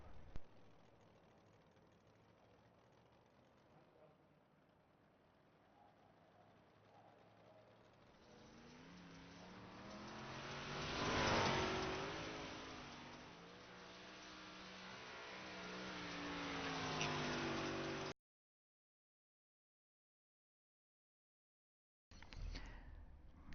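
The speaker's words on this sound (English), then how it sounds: "single car qualifying on track as we speak" A 358 Modified race car circles the track at Oswego during single-car qualifying, its engine a distant drone swelling to a louder pass then fading, before a gap of silence.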